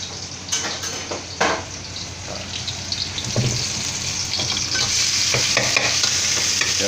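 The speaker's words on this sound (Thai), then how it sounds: "ผัดหมูสับกับกระเทียม ให้สุกก่อนนะครับ" Minced pork and garlic sizzle in a pan as they are stir-fried, with scraping strokes of a spatula and occasional clinks of cookware, the frying hiss growing steadier and louder toward the end.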